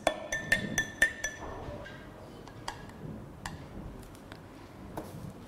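A utensil stirs copper sulfate into water in a glass, giving a quick run of bright clinks and ticks against the glass that then thin out into sparse, fainter taps.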